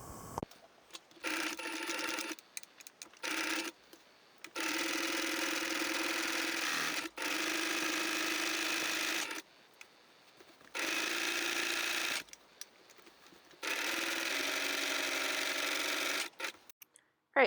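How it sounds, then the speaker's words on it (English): A sewing machine runs zigzag stitches down the seams of a denim blazer in several bursts of steady, close whirring, each a few seconds long and separated by short pauses. "I put the right sides together for this one side, and I'm going to do a zigzag stitch all the way down."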